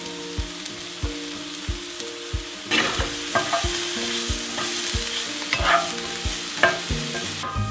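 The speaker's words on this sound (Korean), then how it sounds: "버섯을 넣는다면 넣고 잠시 볶다가" Mushrooms stir-fried in a pan for a one-pan steak cream pasta, a soft sizzle under repeated spatula taps and scrapes against the pan at an irregular pace, close by.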